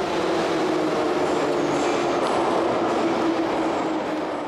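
A Tashkent metro train runs underground with a loud, steady rumble of wheels on rail and faint high squeals, continuous and close, with no talking.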